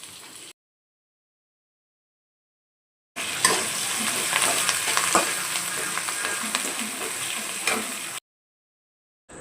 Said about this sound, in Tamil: ஆயில் ஊற்றி பெரிய வெங்காயம், பச்சை மிளகாய், கருவேப்பிலை இது மூணையும் ஆட் பண்ணிக்கலாம்.